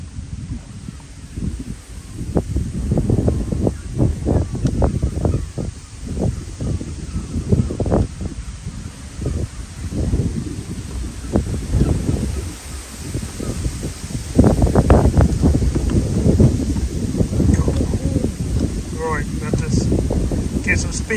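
Strong wind buffets a microphone aboard a boat on Hickling Broad in rough weather, a loud rumbling gusty roar in uneven surges that builds stronger toward the end.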